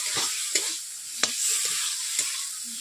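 Pangas fish dhoka pieces frying with spices in a wok, a steady sizzle broken by a few sharp scrapes and clinks of a spatula stirring, close and fairly quiet, with no voices.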